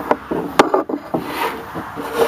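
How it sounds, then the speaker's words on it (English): A quarter sheet sander with 220-grit paper rubs over wood in short scratchy strokes, close and moderately loud, with uneven scraping bursts and no talking. "I'm going to use this quarter sheet sander"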